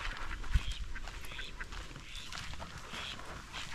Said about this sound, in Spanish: mira el pato ese, qué feo es